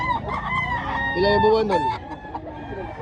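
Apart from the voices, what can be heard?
roosters at a gamefowl expo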